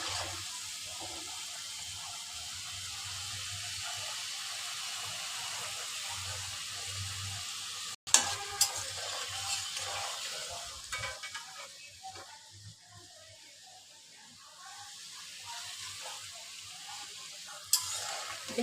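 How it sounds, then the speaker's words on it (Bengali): Nimki, a flaky fried dough snack, deep-frying in oil over a medium flame while being stirred slowly. A steady close sizzle runs throughout, with a sharp clink partway through and a few light knocks later. "আমরা মিডিয়াম চুলার আঁচের মধ্যে নিমকিগুলো আস্তে আস্তে নেড়ে দিব, যাতে সম্পূর্ণ নিমকির ভিতরটা সহ যাতে ভাজা হয়ে যায়।"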